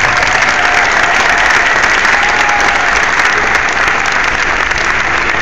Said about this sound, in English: So let's hear it for Mr. Cassart.